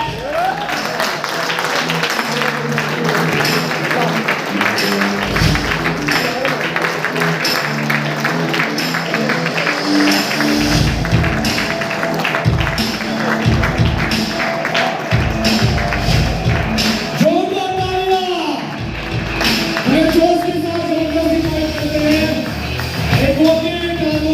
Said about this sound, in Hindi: जोरदार तालियों के साथ स्वागत करते हैं इस हॉल में एडवोकेट आलोक रंजन सर का। जबरदस्त तालियां।